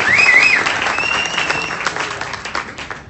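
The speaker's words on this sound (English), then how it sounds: "Another amazing applause for Steve" Audience at a live Kangen Water and Enagic business presentation breaks into loud, sustained applause and clapping that fills the room, with a brief whistle at the start.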